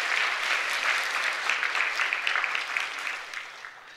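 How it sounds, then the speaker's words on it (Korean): A church congregation at Baegot Sommang Church claps in welcome during a Sunday service, a dense, sustained round of applause that gradually fades toward the end. "박수로 환영하겠습니다."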